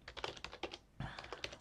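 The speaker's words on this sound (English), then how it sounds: "I have to type in my password so I can share stuff with the network here locally." A password is typed on a computer keyboard: a quick, irregular run of crisp, close key clicks, a brief pause, then another rapid flurry of taps, quiet and alone.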